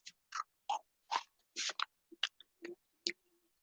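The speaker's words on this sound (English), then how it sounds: "Can you hear the sound of the crunchy? It's crunchy." Crunchy coconut chin chin, a fried dough snack, being chewed up close in a quiet room, with about ten sharp, separate crunches in an uneven rhythm and short pauses between bites.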